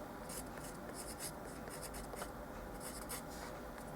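A label being written by hand with a pen, a soft, faint scratching in short irregular strokes, quiet and close with nothing else over it.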